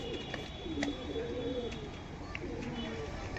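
A Kaldama pigeon coos softly in a few low rolling phrases, faint against background noise with occasional clicks.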